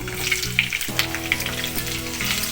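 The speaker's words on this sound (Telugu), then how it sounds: "పచ్చిమిర్చి అయితే వేసేసుకుంటున్నాను. అలాగే కట్ చేసి పెట్టుకున్న ఉల్లిపాయ ముక్కలు." Green chillies and long-cut onion slices hit hot oil in a pan, giving a loud, continuous sizzle and crackle close by, with no voices over it.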